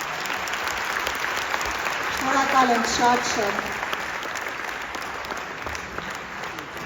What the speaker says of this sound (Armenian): ծափերը թող չդադարեն